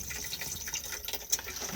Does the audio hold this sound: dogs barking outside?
no